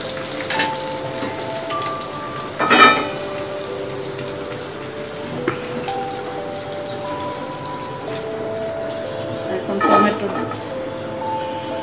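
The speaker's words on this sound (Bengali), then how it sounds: "মাছটা হালকা বেজে নিলাম" Whole fish frying in hot oil sizzles with a steady crackle and a few louder spattering bursts, while someone talks over the cooking throughout.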